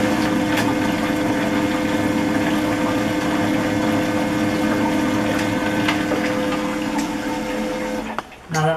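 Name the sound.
Cooper Cooler cycling cold water over a beverage can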